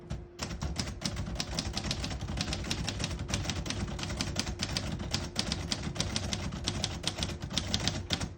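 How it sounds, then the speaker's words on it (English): Rapid, steady clacking of a 1941 Royal Quiet De Luxe manual portable typewriter, keys striking in a dense continuous rhythm, close and fairly loud with no talking. "Beautiful typing machine."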